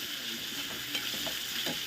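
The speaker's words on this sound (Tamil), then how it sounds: "தக்காளி லைட்டாக வேகட்டும்" Tomatoes cooking in a pan, a steady hissing sizzle with faint soft stirring taps, close and continuous with no talking.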